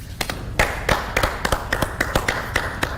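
Studio audience on a Kenyan morning television show clapping in scattered, uneven claps, fairly close and loud, with no talk over them.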